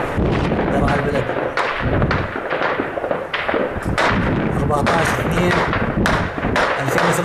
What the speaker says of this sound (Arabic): قصف عنيف على أحياء درعا البلد بالدبابات